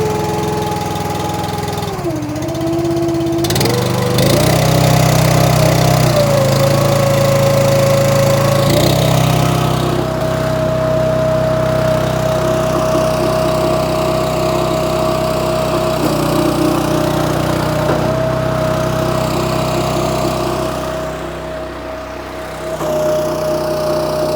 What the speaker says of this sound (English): we're going to start this thing back up. Make sure everything runs good, sounds good